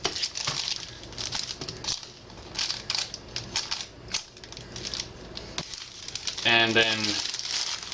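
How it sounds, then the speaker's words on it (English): Hershey chocolate bar wrappers being opened and crinkled, dense crackling rustles through the clip with a louder crumpling burst near the end, under occasional speech. "Individually open the Hershey bars and begin cutting them."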